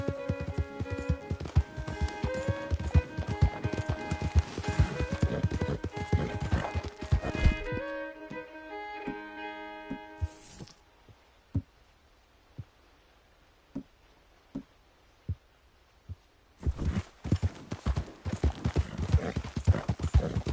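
Horse hooves clip-clop steadily in a PS4 video game amid a music score, then continue as sparse, distinct single hoof knocks in near silence before the fuller soundscape returns.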